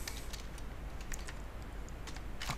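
Fingers tap on a computer keyboard while typing a word, giving sparse, quiet clicks in short bursts over faint background hiss, with no talking.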